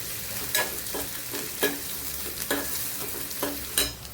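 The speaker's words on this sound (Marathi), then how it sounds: "कांदा, कढीपत्ता, ही ओली मिरची आहे, लसूण आहे, हे सगळं टाकणार मी आता ह्याच्यात आणि ते सगळं भाजून घेणार" Onion, curry leaves, green chili and garlic roasting in a pan. A continuous sizzle is broken by regular scraping strokes of a spatula, roughly one each second, heard up close.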